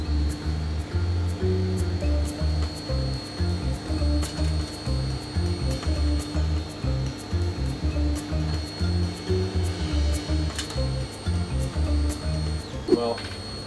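A K40 laser cutter runs a preview pass with its laser source switched off, the gantry motors whirring and stepping in short rhythmic bursts over a steady fan hum, ending with a brief click.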